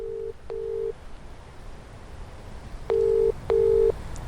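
Telephone call ringback tones: two pairs of short, steady electronic beeps, one pair at the start and a louder pair near the end, separated by quiet line hiss.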